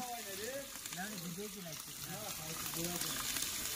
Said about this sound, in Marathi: अद्रक टाकून घेतला इकडे. मस्त पैकी तडका दिलाय.